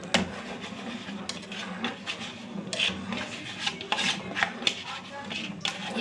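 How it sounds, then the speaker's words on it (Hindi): A spoon stirs ground soaked rice into kheer in a pot, scraping and rasping in a busy, uneven rhythm close to the listener, with no voices over it. "और साथ साथ चम्मच चलाते रहेंगे।"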